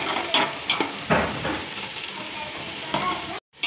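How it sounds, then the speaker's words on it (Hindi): Small onions fry in 250 grams of hot ghee for chicken nahari, a constant sizzle broken by several sharp scraping bursts of stirring against the pot, ending in a brief cut to silence. "प्याज को फ्राई कर रही हूँ"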